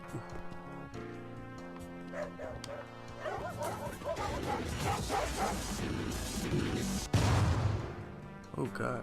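Guard dogs bark and yip in a video game, a cluster of excited barks and whimpers that builds louder over several seconds, with a crash near the end.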